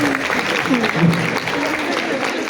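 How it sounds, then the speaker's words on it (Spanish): An audience at a lecture bursts into a dense wash of applause that runs steadily throughout, with voices speaking over and through it. "Aplausos para ellos."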